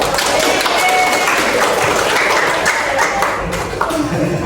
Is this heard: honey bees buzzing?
no